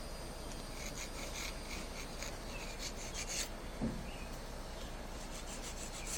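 A nail file rasps steadily back and forth across a stiletto-shaped nail, close and fairly quiet, with a small scrape near the end; no talking.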